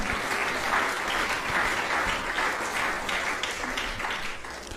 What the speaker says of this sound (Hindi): ताली भी वो बजा रहे हैं जो नातियों के साथ आए